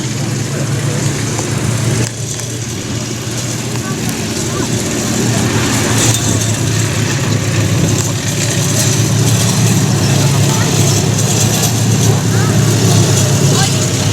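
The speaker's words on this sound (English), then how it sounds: "Looks like this Jeep's going to try and see if he can get up one of the big hills." A Jeep engine labours steadily as it climbs a big hill at a military vehicle show, a loud continuous drone with rising strain, under occasional outdoor chatter.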